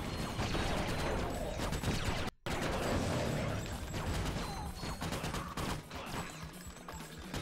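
Dual-wielded Morph-O guns firing rapidly in the game Ratchet: Deadlocked, a dense, loud barrage of overlapping shots and mechanical clatter that cuts out for an instant, then resumes continuously.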